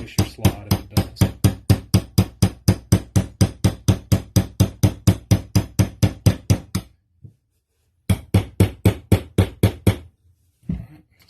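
Rapid, even hammer taps drive a roll pin into an aluminum pistol slide on an ISSC M22, dozens of sharp close metallic clicks in a steady rhythm, a brief pause, then another run of taps.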